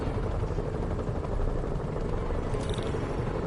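Steady, loud helicopter rotor drone from a video game, a constant thick rumble and whir filling the whole stretch with no pauses.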